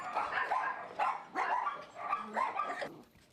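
Dogs barking at an animal rescue shelter, a series of repeated barks and yips in bursts, fairly close and clear with no talking.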